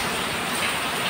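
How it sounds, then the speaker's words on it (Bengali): Steady rain falls on a rainy day, a dense, even hiss of drops on surfaces filling the whole brief moment at a constant level, with no voices. "বৃষ্টি তো পড়তেছে"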